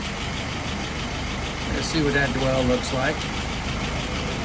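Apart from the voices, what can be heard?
engine idling at about 680 rpm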